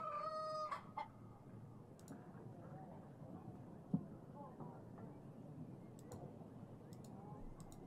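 A rooster crows briefly at the start in the video game Yes, Your Grace, a faint call that gives way to a low ambient bed with occasional soft clucks and ticks.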